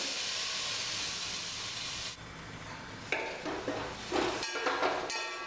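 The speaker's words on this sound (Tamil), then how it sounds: "இப்போ தக்காளி நல்லா வதங்கணும் வதங்குற வரைக்கும் அடுப்பு சிம்மில் வச்சுருங்க" Tomatoes cook on low heat in a pan with mushroom and paneer masala, a steady soft sizzle and hiss, then scraping stirs and clinks from a spoon against the pan, close and moderately quiet with no talk.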